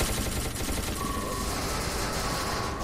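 Dense automatic gunfire in the shooter game SCP: Secret Laboratory, a loud continuous barrage of overlapping shots with no break, filling the whole stretch with dull booming bursts.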